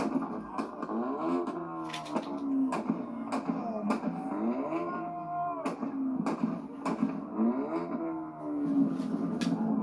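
A Corvette engine revs hard again and again in a rev battle, loud and close, its pitch sweeping up and dropping back in quick repeated bursts.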